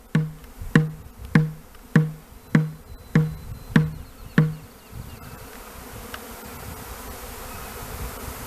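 Swarming honey bees pour out of a hive in northeast Tennessee. A series of eight sharp rhythmic knocks rises over a steady buzzing hum, then only the quieter hum remains.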